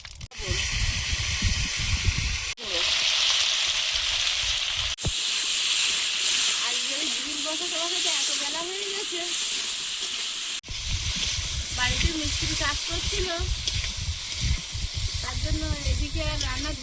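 Panch phoron spices sizzle and hiss steadily in hot oil in a pan, ready for a fish curry, a loud close frying crackle that cuts out briefly a few times, with occasional faint sounds of other activity.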